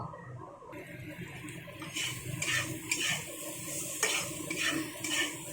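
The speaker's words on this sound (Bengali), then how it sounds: "তো বন্ধুরা, আমার পটলটা ভাজা হয়ে গেছে অনেকটা। আরও সামান্য একটু ভাজা করে নেব।" Pointed gourd (patol) pieces frying in a pan for patol bharta, a soft continuous sizzle with repeated scraping and stirring clinks of a spatula, close and moderately quiet, no voices.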